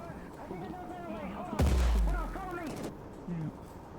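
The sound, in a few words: gunfire, bullets shot from above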